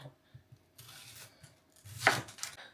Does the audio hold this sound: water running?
no